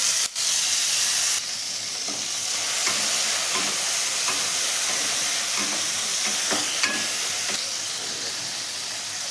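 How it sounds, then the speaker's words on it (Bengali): Prawns fry in mustard oil in a wok, giving a steady, loud sizzle and hiss with light stirring scrapes throughout and no talk. "কড়াতে একটু সর্ষের তেল দিয়েছি। এবারে এর ভেতরে আমি চিংড়ি মাছগুলো দিয়ে ভেজে"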